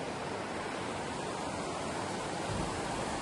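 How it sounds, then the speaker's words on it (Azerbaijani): A mountain waterfall near a glass bridge gives off a steady, even rush of falling water, faint and continuous with no voices. "Şəlaləsidir."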